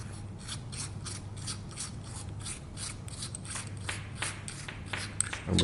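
Threaded plastic cap on the battery compartment of a Boya BY-M1 lavalier microphone being unscrewed close up, a quiet, steady scratchy rasping and ratcheting that runs throughout with faint clicks, alone with no talk.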